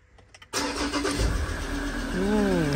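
After a short stretch of quiet background, a car engine cranks and catches at once, settling into a loud, steady idle heard up close, with a rising whine near the end.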